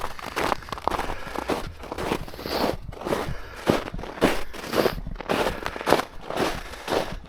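Footsteps crunching through snow on a winter walk along a canal path, a steady rhythm of close, crisp crunches roughly twice a second, moderately loud with no talk.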